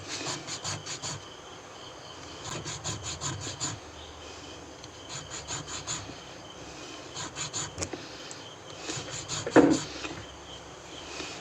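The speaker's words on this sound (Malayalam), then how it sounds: "അപ്പോൾ നമുക്കിത് ഫയൽ വെച്ച് ആദ്യം തന്നെ നല്ല രീതിയിൽ അങ്ങോട്ട് ഇതായി കൊടുക്കാം" A metal file rasps back and forth over the contact parts of an old vintage radio, coming in repeated bursts of quick, gritty strokes with short pauses between, close and fairly loud, and a sharper scrape near the end.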